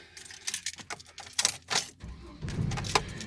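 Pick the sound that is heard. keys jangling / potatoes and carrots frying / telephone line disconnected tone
keys jangling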